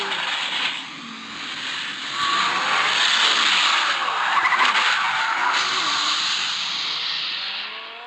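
Tires skid and an engine roars in the Batman Telltale video game, a loud sustained screech and rushing motor noise with rising and falling tones, swelling midway and fading toward the end, with no talking.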